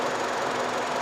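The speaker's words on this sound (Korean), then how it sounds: "엔진 소리 한번 들려드릴게요" An LPG car engine that has just been jump-started after a dead battery runs steadily, with a continuous close, even idle drone.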